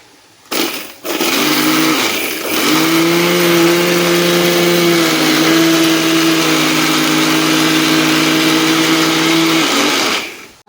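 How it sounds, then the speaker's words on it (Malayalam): A kitchen mixer grinder pulverises sugar into fine powder, a steady loud motor whine that starts after a brief clunk, shifts pitch slightly midway and runs continuously for about nine seconds before cutting off. "മിക്സിയിലിട്ടൊന്ന് പൊടിക്കണം"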